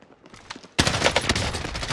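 Gunfire in the video game Warzone, quiet scattered shots that suddenly give way to a loud sustained burst of rapid automatic fire, close and dense.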